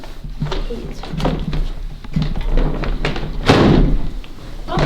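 A vortex generator loaded with fog fires a smoke ring upward toward a light, making a series of soft hollow thumps, with one louder, fuller thud near the end.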